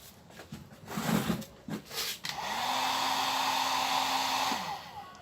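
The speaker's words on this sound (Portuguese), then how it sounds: "Meu secador, ele já está aquecido." A hair dryer blows with a steady, droning whoosh after a few brief bursts, running continuously at close range with no voices.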